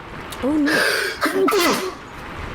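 A single sneeze from a player at a tabletop fantasy role-playing session, close and fairly loud, with a brief spoken exclamation right beside it.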